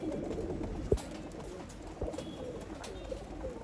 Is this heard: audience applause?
no